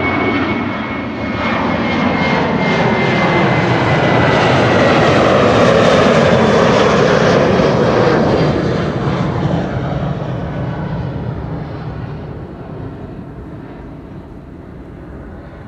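An airliner departing from a runway at Amsterdam Schiphol Airport roars past, building from a distant rumble to a loud peak and then fading away over about fifteen seconds.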